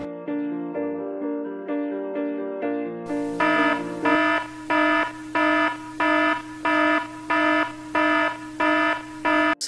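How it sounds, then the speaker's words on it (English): Alarm clock ringing in the morning: a soft melodic chime pattern gives way to a loud, harsh repeating electronic beep in regular pulses, about two per second, close and alone. "after my alarm has woken me up at about 8 or 9 a.m."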